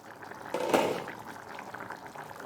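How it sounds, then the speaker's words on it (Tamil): Peanut curry bubbles and simmers steadily in a pot nearby, a soft continuous gurgling with a brief louder splash near the start. "நல்லா சலசலன்னு கொதிச்சு குழம்பு பதத்துக்கு வந்திருக்கு."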